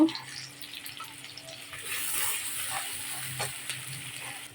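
Onions tipped into hot oil left over from frying hilsa fish, giving a soft, steady sizzle and stirring at low volume that swells in the middle of the clip.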